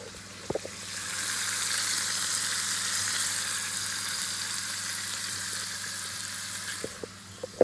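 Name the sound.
beef roast sizzling as it browns in a pan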